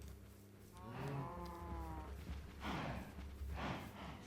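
Cows in Minecraft give a long, clear moo followed by two breathier, softer low calls, close and loud against a steady background hum.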